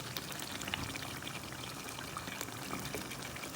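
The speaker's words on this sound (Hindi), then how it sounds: "अभी मैं इसमें डालने लगी हूँ आलू" Two large potatoes tumble into a pot of simmering mutton curry, giving a steady wet pouring and splashing texture that holds evenly at moderate level for a few seconds with no voices.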